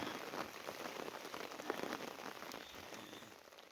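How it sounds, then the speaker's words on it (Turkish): Steady rain pattering on a surface, a dense even hiss of drops with no voices, moderately loud and close throughout. "Duyuyorsun sesi yağmur yağıyor."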